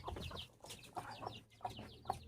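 Guinea fowl cluck and chatter nearby, a series of short, rapid, scratchy calls in irregular bursts, fairly quiet with no talking.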